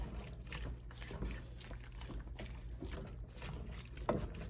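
Water trickles into a pot of cabbage cooking with smoky ham hock, about half a cup to a cup, a soft, steady pouring sound, faint and close, with no voices.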